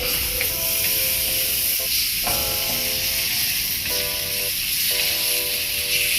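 Shrimp frying in a wok-style pan for sautéed bitter melon, giving a steady, close sizzle and hiss throughout, with faint tonal hums briefly appearing underneath.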